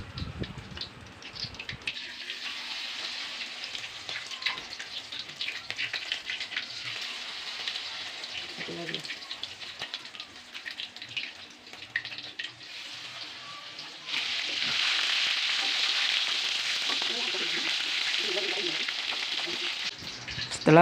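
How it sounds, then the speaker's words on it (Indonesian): Shrimp batter drops into hot oil for frying and sizzles steadily, a bright hiss that grows noticeably louder and denser partway through, with occasional soft clinks and stirring in the background. "setelah minyaknya sudah panas, sekarang kita masukkan adonan udang tersebut ke dalam minyak tersebut"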